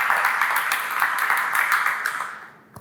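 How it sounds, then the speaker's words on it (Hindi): Loud audience applause at a Hindi talk show, a dense steady wash of many hands clapping that tapers off near the end, no voices over it. "जरूर एक बार जोरदार ताली।"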